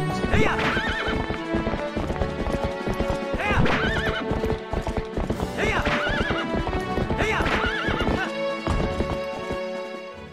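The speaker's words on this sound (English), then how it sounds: "This is definitely the fastest horse, the fastest Epona that we've seen yet." A horse in the Zelda Twilight Princess video game gallops with a quick, rhythmic clip-clop of hooves and whinnies now and then, all under loud game music. The sound stays busy and close.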